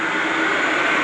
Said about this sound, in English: That's a sugar factory blowing out pipes or something.